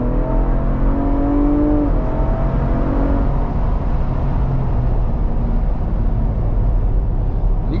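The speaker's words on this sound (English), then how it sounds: "The exhaust is in sport mode as well." A car pulls away hard with its exhaust set to sport mode, a loud close engine drone climbing through a gear change and then holding a steady roaring pull.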